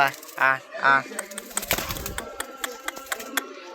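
Pigeons coo in short throaty bursts close by as they fight, followed by fluttering, scuffling and pecking sounds.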